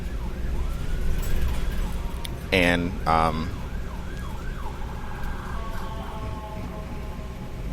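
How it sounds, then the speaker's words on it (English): An ambulance siren wails as it goes by at a moderate distance, its rising and falling tone sustained under steady road noise, with a brief burst of a higher horn-like tone partway through and a single spoken word. "there's the ambulance going by"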